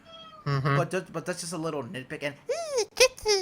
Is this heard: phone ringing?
no